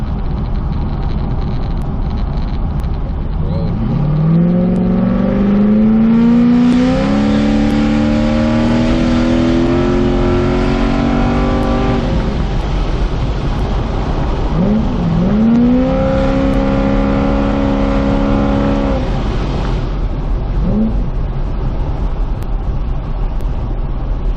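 A MKIV Toyota Supra engine revs hard through rising gear pulls, a loud climbing whine that drops and builds again, with steady road and wind noise throughout, heard from inside or near the car.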